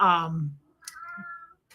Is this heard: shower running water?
no